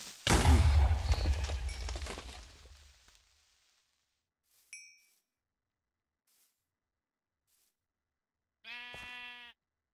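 Sheep bleating in a blocky sandbox survival video game: one short harmonic bleat near the end, after a burst of louder game noise and a tiny chime, with quiet gaps between.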